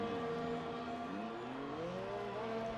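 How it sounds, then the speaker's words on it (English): V6 race car engines start and rev at the Circuit de Barcelona. Their tones rise and fall in overlapping sweeps, a steady mechanical drone that climbs in pitch as the revs build, heard at moderate distance. "we can now hear the V6s starting up and revving up"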